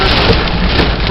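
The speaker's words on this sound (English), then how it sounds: "Rain sideways." Heavy rain in a severe thunderstorm in Pittsfield, Massachusetts, driven sideways by wind, pours in a loud, dense, continuous roar, close to the microphone.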